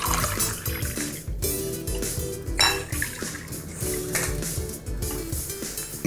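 Continuous clinking and scraping of a utensil stirring rice and water in a bowl, with wet, grainy stirring sounds and a faint watery slosh, close and steady.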